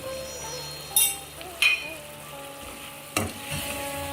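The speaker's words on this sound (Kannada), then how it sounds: "ಪುಳಿಯೋಗರೆ ಪುಡಿ ಇದ್ರ ಜೊತೆ ಹಾಕಿ ಇದು ಚೆನ್ನಾಗಿ ಕುದಿಬೇಕು." Puliyogare powder mixture bubbling and sizzling in a pan, a quiet steady simmer with a few sharp clinks and scrapes of a utensil against the pan.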